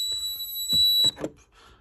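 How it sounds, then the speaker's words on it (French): A steady high-pitched electronic fire alarm tone from an Esser fire alarm panel sounds for about a second, then cuts off as someone speaks briefly. "vous avez l'alarme feu qui s'annonce avec le feu général et l'alarme."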